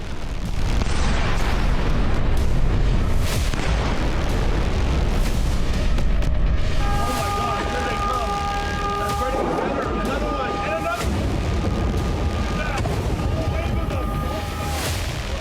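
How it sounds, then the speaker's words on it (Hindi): Explosions from an Iranian missile attack, heavy rumbling booms and bursts over continuous roaring noise, with tonal sirens or whistles partway through and a voice speaking over parts of it. "ईरानी मिसाइलों से हमले की ये तस्वीरें"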